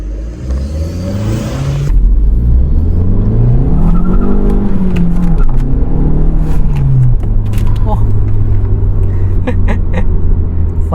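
An Abarth Punto on its stock catalytic converter revs hard through wheel spins, its engine climbing and falling in pitch twice over a heavy rumble, loud and close, with some brief squeaks near the end.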